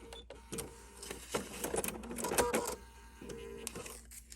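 A sewing machine stitches a small foundation-pieced quilt block in short bursts of rapid mechanical whirring, close up, with brief pauses between runs.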